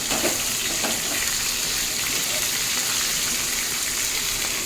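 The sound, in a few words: large rohu fish frying in oil, oil spooned over it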